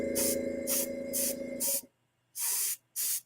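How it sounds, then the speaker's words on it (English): Spray marker spraying ink, running low: three short hissing bursts over a sustained low hum, then a pause and two more separate sharp hisses, close and distinct. "This one's spraying pretty clean, but it's also running low."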